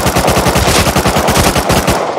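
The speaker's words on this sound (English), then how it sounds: "Oh, I can shoot AK." Rapid automatic AK rifle fire in the video game Rust Console Edition, a loud sustained burst of about twenty evenly spaced shots over two seconds, close and continuous with no talk.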